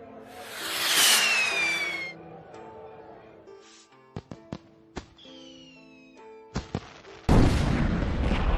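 A rocket explosion with fireworks in an animated Mulan story: a rising whistling whoosh, a series of sharp pops and bangs, then a loud, broad roaring blast at the end.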